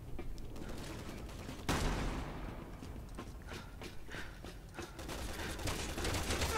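Enemy gunfire in Resident Evil 6 inside a hangar, a sharp shot followed by scattered, fairly faint bursts and clatter over a low ambient rumble.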